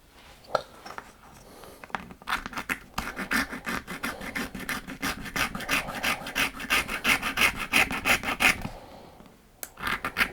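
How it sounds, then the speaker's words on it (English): A part being ground or filed down by hand, rapid rhythmic rasping strokes close up, building into a dense steady scrape before a brief pause and a few final strokes, no talking. "Going to grind it down."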